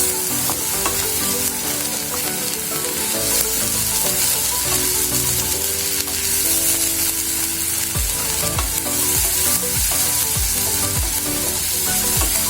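Spices with cumin powder are stirred in a hot pan beside beef brain, producing a loud, steady sizzle with scraping stirs and a run of sharp utensil knocks toward the end.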